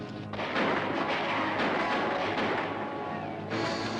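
Gunfire from a battle between troopers and attackers, dense and continuous volleys of shots and booms rolling together in a loud, steady barrage with no clear gaps between reports.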